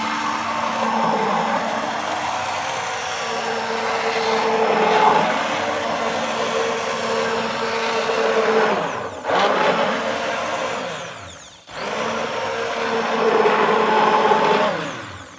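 A handheld immersion blender mixes hot process soap, whirring loudly and continuously, its motor pitch wavering as it works, briefly cutting out and restarting near the end.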